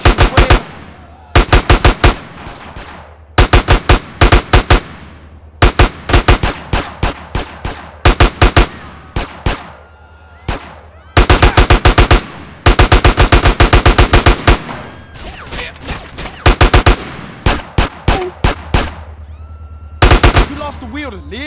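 Automatic gunfire in GTA San Andreas Definitive Edition, loud rapid bursts of shots repeating in clusters with brief gaps between, close and dominant, with a few spoken lines in between.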